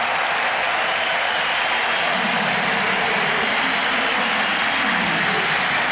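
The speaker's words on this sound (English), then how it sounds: "His fiancée applauding from the stands" Cricket crowd applauding Jacques Kallis reaching 150 at the South Africa versus England second test in 2004, a broad steady wash of distant stadium clapping continuing unbroken throughout.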